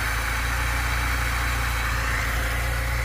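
A Lada car engine runs just after starting, giving a steady, close low rumble with a regular mechanical throb and a rough mid-range drone, continuous and unvarying, with no voices.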